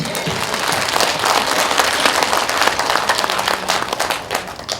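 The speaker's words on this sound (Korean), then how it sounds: "영광의 박수 드리겠습니다" A church congregation at a revival meeting applauding in thanksgiving: dense, sustained clapping from a large crowd that fills the room at an even level throughout.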